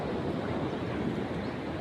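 Strong ocean waves roll in a steady, loud wash of surf, with a continuous broad roar and some wind noise on the microphone.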